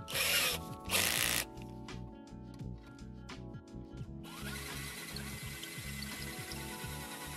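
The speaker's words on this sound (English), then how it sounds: "I used a pocket hole jig to drill holes" A power drill bores pocket holes with a pocket hole jig, in bursts of high whining drilling. Steady mechanical grinding runs underneath, close and fairly loud.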